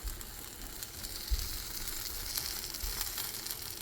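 A cheese paratha cooks in ghee on a pan, producing a faint, continuous crackling sizzle with a few soft bumps from handling, heard alone without speech.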